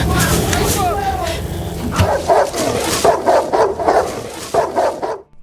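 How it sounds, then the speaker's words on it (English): A tracking dog in a war movie barks repeatedly at close range, loud and rhythmic, amid background noise and battle sounds. "When a tracking dog approaches, she shoots it and immediately retreats inside to hide."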